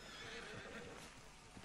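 A horse whinnies in the video game Red Dead Redemption 2, a loud, close neigh over steady background noise with some hoof clip-clop mixed in.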